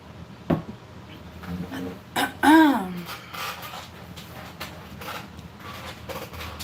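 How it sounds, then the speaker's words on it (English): A single short, lingering post-illness cough early on, followed by a brief voiced sound and some faint movement in a quiet room. "ever since I got sick, I've still had this little lingering cough"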